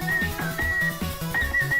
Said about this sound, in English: The whistling is the Zelda theme.